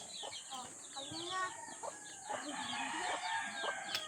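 Small Texas breed chickens cluck and chatter nearby in overlapping bursts, with a rooster-like call in the mix and someone talking quietly in the background.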